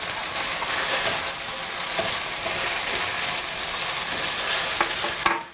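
Beef being stir-fried in a pan, a steady loud sizzle of frying meat with scraping and stirring throughout, ending on a sharper clatter.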